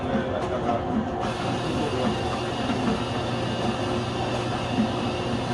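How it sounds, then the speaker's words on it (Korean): Commercial mixer kneading ciabatta dough in a small bakery café, a steady mechanical churning rumble with rhythmic slapping and clattering that runs continuously and fairly close. "그래서 치아바타 반죽 치는 중이고요"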